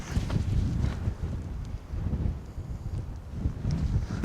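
Strong wind buffets an outdoor shooting range, rumbling and gusting close against the microphone in uneven surges, loud and steady with no voices.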